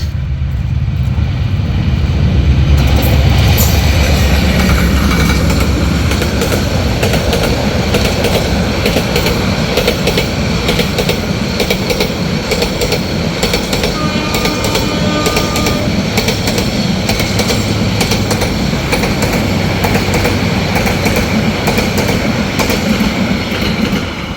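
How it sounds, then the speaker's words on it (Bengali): A train on a Bangladeshi commuter line near Narsingdi rolls past loudly and close, a sustained rumble with rhythmic wheel clatter and metallic squeals over the whole stretch, without anyone speaking. "কোনো একটা ট্রেন আসছে হয়তো ঢাকার দিক থেকে"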